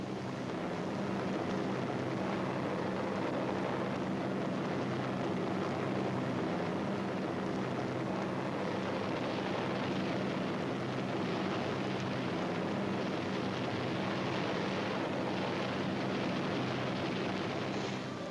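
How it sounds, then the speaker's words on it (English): Allied planes attacking the coast during the WW2 invasion, captured in archival footage: a faint, steady, distant rumble of aircraft and blasts, unbroken and without voices. "Standing offshore, the invasion craft wait as Allied planes blast the coast"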